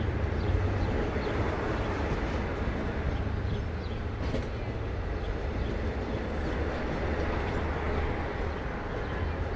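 Long Island Rail Road train 6005 rumbling past at Speonk, a steady heavy rolling roar with a low drone throughout and one brief high squeal partway through, close and continuous with no talk.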